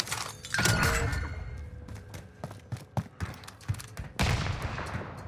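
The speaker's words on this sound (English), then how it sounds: "Oh, rocket launched." A rocket launcher fires in Warzone on Rebirth Island, a loud burst opening amid game noise, followed by scattered thuds, cracks and a second heavy blast near the end.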